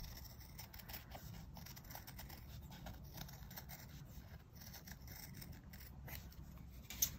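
Quiet, close snipping and rubbing of scissors cutting through material in a steady run of small strokes, with a slightly louder click at the end.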